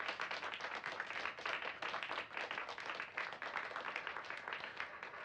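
Recorded applause played back for a reading contest, dense continuous clapping from a crowd, faint and steady throughout with no talking.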